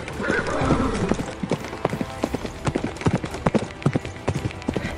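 A horse given to a traveller clip-clops along a road, steady close hoof strikes falling in a quick uneven rhythm over a constant outdoor rumble, with a faint whinny early on.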